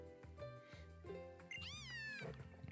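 A cat Pokémon meows in Pokémon Sun, several short synthesized cries over game music, ending in one longer, rising and falling meow that stands out clearly.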